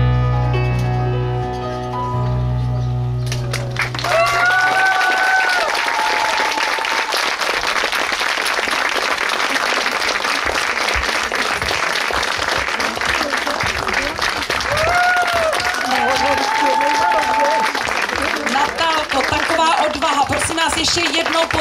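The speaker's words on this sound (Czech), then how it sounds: "Ještě jednou potlesk za překonání svých hranic." Audience applause after a music performance at a garden festival of the Kuřim elementary art school, rising after a brief musical ending and then continuing loud and steady, with a voice occasionally audible through the clapping.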